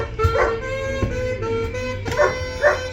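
Dog howling and whimpering along to saxophone music aboard a narrowboat under refurbishment, its wavering howls rising twice over the steady tune, close and fairly loud.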